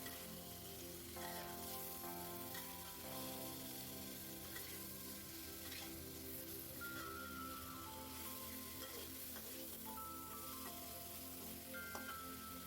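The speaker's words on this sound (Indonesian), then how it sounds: "ini ikannya saya tumis sebentar supaya nanti nggak bau amis" Fish sautéing in a hot pan gives a continuous sizzle and crackle, with occasional clinks and stirring sounds, and no talking.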